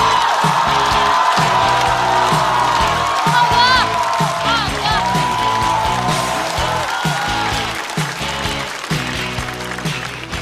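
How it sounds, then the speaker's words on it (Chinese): A stand-up comedy studio audience greets a comedian walking on stage with loud, sustained applause and cheering, steady and full throughout before easing slightly near the end. "掌声欢迎贾浩"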